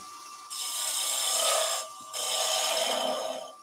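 A small bowl gouge cuts wood on a lathe while fluting a turned basket weave vase, giving two sustained rasping, hissing passes with a brief pause between them, close and steady.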